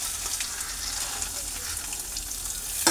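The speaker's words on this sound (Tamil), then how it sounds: "வெந்தயமும் ஜீரகமும் பொரிஞ்சோன்னா நம்ம அடுத்து கடலையை போட போகிறோம்" Fenugreek and cumin seeds spluttering in hot oil, giving a steady close crackling sizzle with small pops throughout and no talk.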